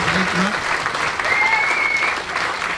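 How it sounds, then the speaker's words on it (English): Applause from an audience at a driver Q&A at the British Touring Car round at Silverstone, a steady clapping wash through the whole stretch with a host's voice talking over it. "Another round of applause from that amazing top 10 finish there."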